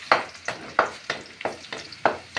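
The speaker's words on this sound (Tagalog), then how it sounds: "Okay, gisa na po tayo mga kapitik. Yan, okay, ito ha. Yan, bawang." Garlic with vegetables sautéing in a pan, a sizzling fry broken by about six rhythmic stirring scrapes of a utensil against the pan, close and fairly loud.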